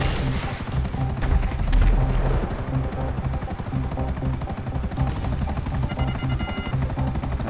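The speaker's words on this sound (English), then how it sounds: "Not the best at this helicopter." Helicopter in the video game GTA V, a loud, steady rotor drone and engine whine that continues throughout, with faint game sounds mixed in.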